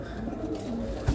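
Pigeons kept by Old Delhi pigeon fanciers coo in a soft, continuous, throaty drone, steady and fairly close, with a brief low thump near the end.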